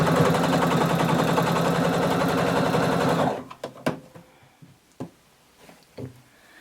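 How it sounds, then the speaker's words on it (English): A sewing machine runs steadily for about three seconds, zigzag-stitching the hem of a little black dress, then stops, leaving a few soft knocks and handling sounds close by. "you're going to sew all the way around using a zigzag stitch"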